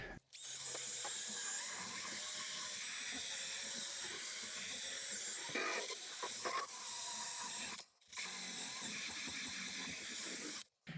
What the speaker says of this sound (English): Go at it with the drill.